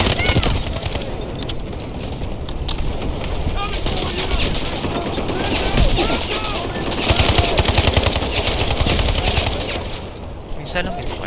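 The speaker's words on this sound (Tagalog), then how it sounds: "Malakas ang RPM ng baril mo" Rapid, dense automatic gunfire from a high fire-rate weapon in the Delta Force video game, a sustained loud fusillade of overlapping bursts running nearly the whole time, with voices talking underneath.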